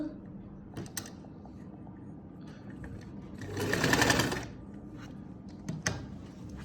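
A sewing machine stitching a seam along a garment's side and sleeve, running in one short whirring burst of about a second in the middle, with light clicks and handling noises before and after.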